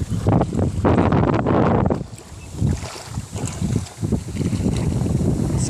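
Strong wind gusting on open water while a screen fish trap is being checked, heavy buffeting roar across the microphone in surges, loud and close.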